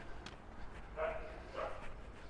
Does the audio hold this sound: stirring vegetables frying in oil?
no